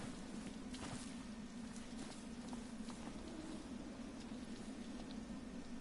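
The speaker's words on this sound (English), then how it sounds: "Ew, it's raining." Rain falling in the video game Final Fantasy XV, a steady soft wash of patter with a low hum underneath, faint and continuous with no talk.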